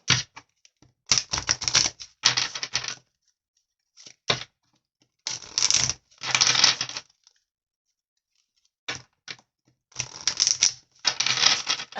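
Oracle cards are shuffled by hand in short, crisp bursts of riffling and flicking, separated by quiet pauses, close and fairly loud.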